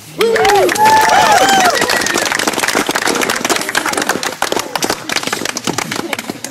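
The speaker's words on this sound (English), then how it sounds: "I think we just give them a round of applause" A wedding crowd breaks into loud, sustained applause with scattered whoops and cheers, slowly thinning toward the end.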